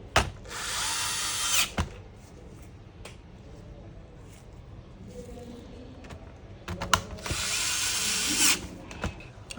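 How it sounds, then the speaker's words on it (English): A small electric screwdriver drives screws back into the underside of a Toshiba Protege R930 laptop in two loud whirring bursts near the start and end, with soft clicks and handling noises between them. "now you need to put all the screw back you take out from the laptop"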